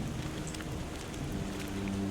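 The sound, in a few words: rain in the video game Tainted Grail: Fall of Avalon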